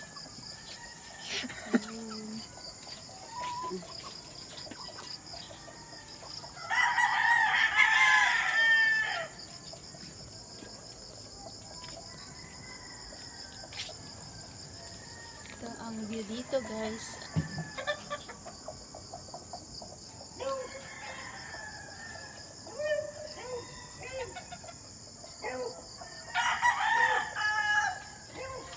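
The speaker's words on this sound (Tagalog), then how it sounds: "puro manok yan dyan. Manok hanggang doon." Several fighting roosters crow in loud bursts, near and farther off, amid scattered clucking and a steady high insect drone, with a brief spoken remark in Filipino.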